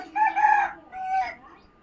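A desi rooster crows close by on a small family farm, one strong drawn-out call followed by a shorter second phrase, loud and clear with no talk over it.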